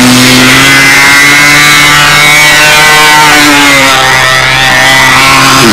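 Giant 1,500-inch Flight Streak radio-controlled model aircraft engine droning steadily at close range, a loud sustained buzz that shifts pitch slightly, with no talking.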